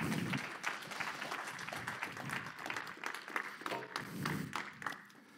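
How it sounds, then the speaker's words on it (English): A church congregation applauds as a pastor is introduced, with a burst of lively clapping that varies in density, mixed with a few cheers, before fading at the end. "Give Pastor Jerry a round of applause."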